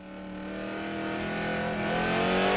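A street stock race car at Boomtown Speedway drones through a qualifying lap, its engine note steady and rising gradually in pitch and volume as it accelerates, loud and continuous with no voices over it.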